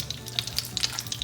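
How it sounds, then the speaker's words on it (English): Shrimp cakes frying in a pan of heated olive oil and butter, a steady close sizzle with scattered crackles and pops throughout, no voices. "So now we're gonna fry them."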